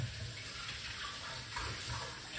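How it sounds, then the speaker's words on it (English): Water being poured out, a soft continuous splashing stream like a running tap, fairly quiet and steady for a couple of seconds with no voices. "I'm going to pour out this water."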